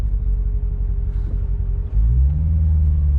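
A Corvette's engine rumbles low and steady from inside the cabin while driving, deepening and swelling louder partway through as the car pulls harder. No voices.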